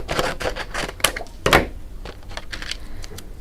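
A die-cutting machine cuts a die to trim white base pieces for a craft project, giving a run of close, sharp mechanical clicks and clacks with a few louder knocks, heard alone with no talking.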